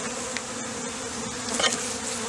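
Steady, dense buzzing of many honey bees close by during installation of a package of bees into a hive, a continuous drone with a slight swell near the end.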